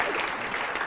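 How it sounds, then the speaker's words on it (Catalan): Studio audience clapping on a Catalan TV word-game show, a dense steady wash of applause filling the whole second with no speech over it. "Aplaudiu"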